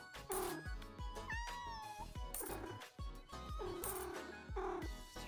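Cats meowing in the cozy video game Minami Lane, several bright repeated meows over a busy backdrop of looping game music and chimes, steady and fairly loud.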